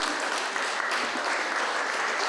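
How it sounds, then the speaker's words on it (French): A crowd applauds the actors as they arrive for a post-show autograph session, a dense, steady wash of clapping hands with no break. "c'est sous une houle d'applaudissements que les acteurs sont accueillis pour la fameuse séance de dédicace"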